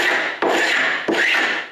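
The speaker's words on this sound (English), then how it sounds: "I don't wait to scrape off the glue on this side of my glue up." A scraper drags excess glue off a fresh wooden panel glue-up in three long, loud rasping strokes, each starting with a sharp attack and fading, close up with no talk.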